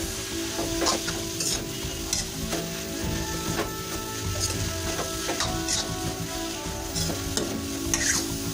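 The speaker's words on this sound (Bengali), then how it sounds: "এখন এটাকে আমরা মিনিট 5 ধরে লো ফ্লেমে কষাতে থাকবো।" Ground spices and ginger paste being stirred and sautéed on a low flame for cabbage chorchori with rohu fish head, a steady soft sizzle broken by repeated scraping spatula strokes close by, with no talk.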